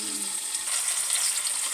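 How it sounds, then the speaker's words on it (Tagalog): Chicken pieces for adobo frying in a partly covered pan, a soft, steady hiss of sizzling oil with faint crackles, fairly quiet and continuous with no talking. "Parang piniprito mo lang siya."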